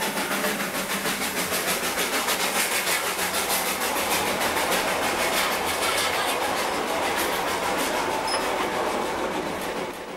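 A steam-hauled narrow-gauge toy train in India rolls steadily through a town, its carriages giving a continuous, fairly close rumble and clatter for the full length with no pauses.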